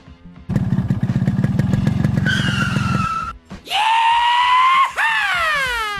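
A motorcycle at a petrol pump revs hard in a run of rapid pulsing bursts. The engine note then rises into loud, whining, skidding tones that sweep up and down.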